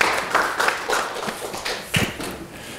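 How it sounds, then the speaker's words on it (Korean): Scattered applause from a small group at a Korean political party's meeting with arts and culture representatives, irregular claps of moderate loudness, thinning out toward the end. "박수 부탁드리겠습니다."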